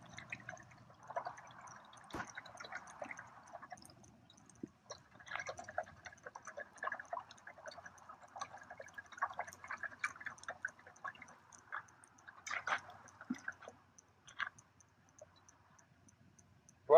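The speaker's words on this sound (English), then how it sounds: "Add some more water, lightly." Water sprinkled lightly over a repaired patch on a sports field, coming as soft, quiet spattering and trickling in uneven bursts with short pauses between them.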